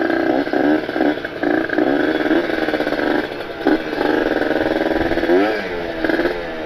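A Kawasaki Ninja RR two-stroke with an aftermarket ABRT20 galvanized exhaust, 40.5 stinger and ported engine revs hard in repeated loud blips, a raspy buzzing note with crackling between bursts and no talk over it.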